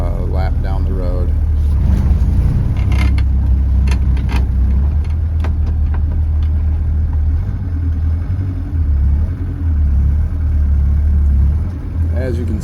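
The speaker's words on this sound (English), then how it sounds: "We'll drive in the 190D. Just going to pull out and make a little lap down the road." A 1963 Mercedes-Benz 190D with a diesel engine pulls out and drives down a road, giving a loud, steady low engine drone and rumble heard from inside the car throughout, with someone talking over it.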